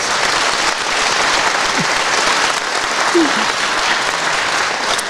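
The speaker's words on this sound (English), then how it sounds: "Everyone give yourself a round of applause." Live event audience applauding steadily, dense continuous clapping from a crowd filling the whole stretch, loud and close.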